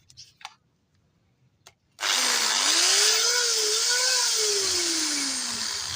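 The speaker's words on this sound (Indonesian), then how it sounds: "ini saya akan coba juga mesin bor" A 220-volt electric drill is switched on after a few faint clicks and handling sounds, then whines steadily and loudly, its pitch climbing as it spins up, wavering, then sinking slowly while it keeps running.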